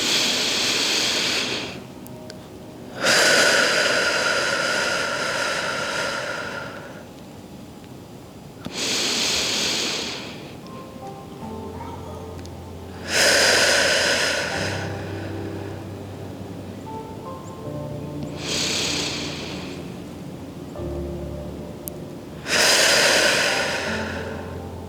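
Slow, deep relaxing breaths, each a long airy exhale swelling and fading, repeated at calm intervals close to the microphone with faint low background noise between them.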